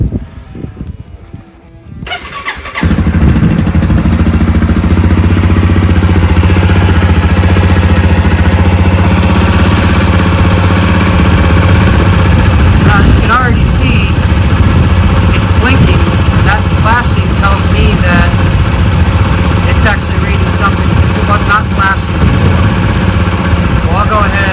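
A Honda CRF250F dirt bike engine fires up after a brief moment of handling noise, then settles into a loud, steady, close idle that runs on unbroken.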